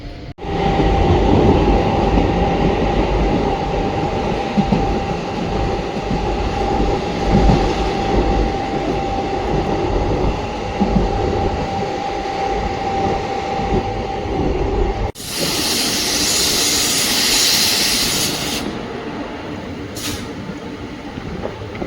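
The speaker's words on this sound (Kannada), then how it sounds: "ಆಲೇ ನಮ್ಮ ಟ್ರೈನ್ ಡಿಪಾರ್ಟ್ ಕೂಡ ಆಯಿತು ಕುಂಸಿ ರೈಲ್ವೆ ಸ್ಟೇಷನ್" A passenger train on the Mysore–Talaguppa line pulls out of Kumsi railway station, heard from on board. Its loud, steady rumble and rail clatter run throughout, with a harsh, bright wheel squeal or hiss near the end.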